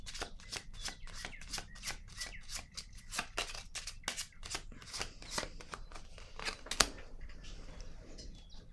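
Close, steady shuffling of tarot cards, rapid papery flicks in a continuous run, then a sharp snap as a card is laid down before the handling quiets; no speech.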